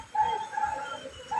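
A short, clear bird call, a soft repeated cooing note sounding twice at close range against a quiet background.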